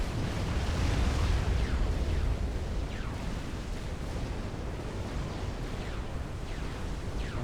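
Commander bombs exploding across a base in the real-time strategy game Supreme Commander: Forged Alliance, a dense, continuous roar of overlapping blasts and deep rumble that stays loud throughout.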